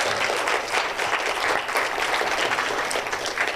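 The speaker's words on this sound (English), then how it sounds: "Please, a round of applause for Tato." An audience at Rutgers University applauds an introduced poet, steady dense clapping from a sizeable crowd, even and sustained at moderate loudness throughout.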